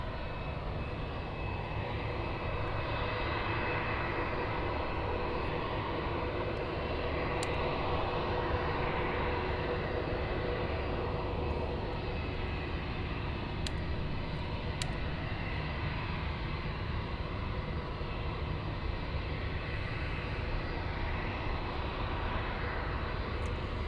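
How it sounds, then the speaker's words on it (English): Lufthansa airliner flight 1810 to Barcelona at Munich airport, a steady, fairly quiet engine roar that swells gently and carries on unbroken, heard on its own without talk. "This one is Lufthansa 1810 to Barcelona."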